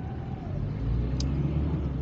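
A Mitsubishi Kuda diesel engine runs with a steady, low, even rumble, heard close and continuous with no voices.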